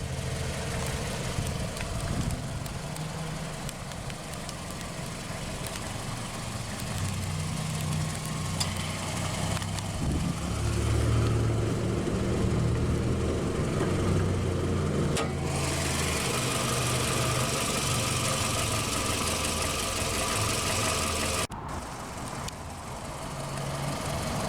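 A 2010 Scion tC's 2.4-liter 2AZ-FE inline-4 idles after start-up with a steady low rumble that shifts in tone midway and drops briefly near the end, no talking.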